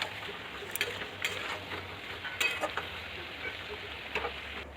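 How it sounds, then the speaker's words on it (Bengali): Chicken frying in a kadhai with a soft, steady sizzle and occasional scraping stirs, fairly quiet and close, with no talking. "ভালো করে কড়াইতে চিকেনটা নেড়ে নিয়ে আমি ওই পেস্টটা ঢেলে দিলাম"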